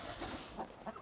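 Chickens at a Highland cattle ranch near Spean Bridge give short, fairly faint clucks in a loose, uneven rhythm against a steady outdoor background, with no talking.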